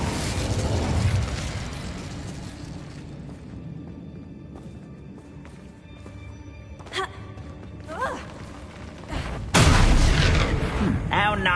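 A fire spell bursts in Hogwarts Legacy with a loud booming blast at the start, followed by scattered crackles and pops and another heavy burst near the end, with game voices speaking over it.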